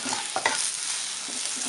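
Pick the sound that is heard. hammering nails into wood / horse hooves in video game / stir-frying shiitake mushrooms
stir-frying shiitake mushrooms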